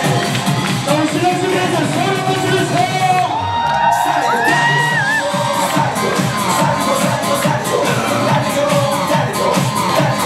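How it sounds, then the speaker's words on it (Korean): Wedding guests cheer, whoop and shout for the bride and groom, a loud, continuous crowd roar with high yells rising over it and music playing beneath. "신랑 신부한테 가장 크게 줄 수 있는 선물은 여러분들 박수와 함성이 아닐까 싶습니다."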